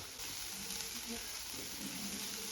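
Chopped onion and ginger garlic paste sizzling steadily in a hot pan while being stirred, a constant soft frying hiss with occasional scraping, moderately quiet and close.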